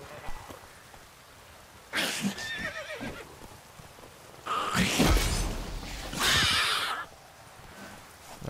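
Roach the horse from The Witcher 3 whinnies and snorts in a few loud bursts, the clearest near the middle and another shortly after, with soft hoof clip-clop and rustle between them.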